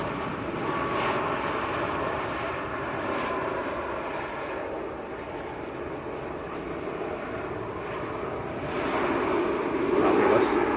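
A Qatar Airways Boeing 787-9 from Doha passes at Manchester Airport with a steady, distant jet rumble that builds slightly toward the end, while people talk now and then over it.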